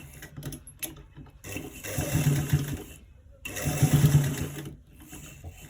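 A sewing machine topstitches around a V-neckline in two bursts of steady mid-level whirring, separated by brief pauses, with a quieter mechanical hum between runs.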